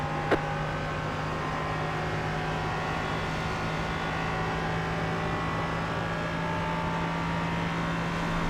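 An LMP3 race car engine in the iRacing sim drones at a fairly constant pitch, a steady, moderately quiet hum with layered tones and only a brief tick near the start, with no talking.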